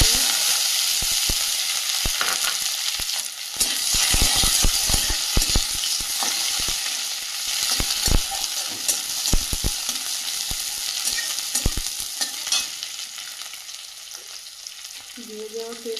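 Whole cumin seeds, chopped ginger, garlic and onion fry in a pan, giving a loud steady sizzle with sharp pops and crackles scattered throughout and occasional stirring scrapes, and no talk over it.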